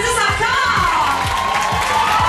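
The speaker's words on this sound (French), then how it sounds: "J'aimerais qu'on les applaudisse" A cabaret audience at a Monday comedy night at Cabaret Mado cheers and applauds loudly, a brief burst of whoops and shouts with a rising whistle-like cry above continuous clapping.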